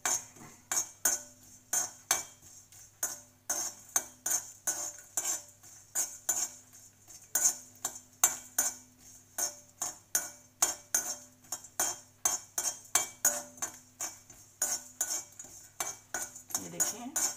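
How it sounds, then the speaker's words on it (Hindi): Coriander frying on low flame for kacchi dabeli, heard mainly as steady rhythmic metal spoon clinks scraping the pan, dozens of close repeated strokes over a faint sizzle, no talk. "फिर धनिया, लो फ्लेम में फ्राई कीजिए।"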